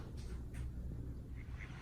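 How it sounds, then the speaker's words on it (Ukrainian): A duck in an American home gives a few faint quacks over low background noise, brief calls scattered across the moment. "не гани качечку"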